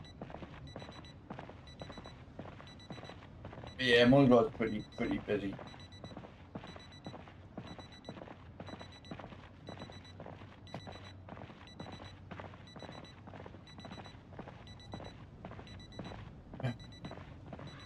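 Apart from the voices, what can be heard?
alarm going off in Project Zomboid video game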